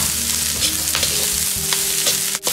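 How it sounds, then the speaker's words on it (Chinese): Scallions tossed into a wok of hot oil with ginger and garlic slices for stir-fried pork and scallions: a loud, steady sizzle runs throughout, broken by scraping stirring strokes, with no talk. "接着下入大葱，翻炒均匀。"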